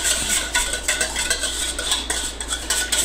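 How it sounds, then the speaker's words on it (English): Steady rapid whisking of an Old Bay seasoning mixture in a bowl, a continuous rhythmic clinking and scraping of the whisk against the bowl, close and fairly loud. "we're going to whisk that all together just like that"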